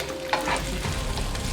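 Egg being stirred into Japanese fried rice in a hot frying pan, a steady close sizzle with the scrape and shuffle of a spatula running through the short stretch, no voices.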